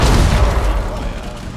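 Gunshots ring out in a Rainbow Six Siege match, a loud, close burst of booming fire that fades into a rumbling tail.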